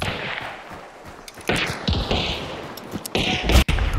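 Rapid bursts of gunfire in the video game Hunt: Showdown crackle and pop, some clustered into quick volleys, loud and close with a harsh, compressed electronic quality.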